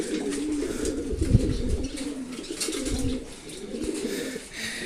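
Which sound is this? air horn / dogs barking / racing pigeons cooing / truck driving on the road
racing pigeons cooing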